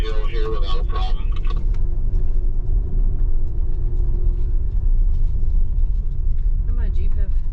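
An SUV driving up a hill under steady throttle, a continuous low engine rumble and road noise from inside the cabin, steady throughout, with people talking over it.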